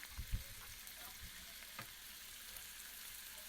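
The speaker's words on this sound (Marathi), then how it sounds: "आपला तेल तापत ठेवलेला आहे ना तर ते आपण आता तळून घेऊया" Banana and sesame puris fry in hot oil in a kadhai, a faint, steady sizzle with a couple of soft thuds at the start as the dough drops in.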